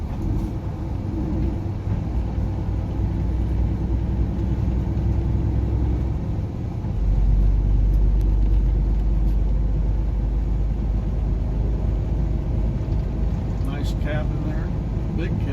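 A truck engine rumbles low and steady while leaving a windmill jobsite, the pitch and load shifting partway through as the transmission changes gear, with a faint voice talking over it.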